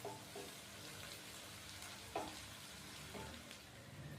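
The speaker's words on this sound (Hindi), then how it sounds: "प्याज को हम 2 से 3 मिनट के लिए हल्का सा फ्राई करेंगे, ताकि ये थोड़ा सा नरम हो जाए।" Onion softly frying in a pan makes a faint, steady sizzle with occasional light clinks of a utensil stirring, no talking.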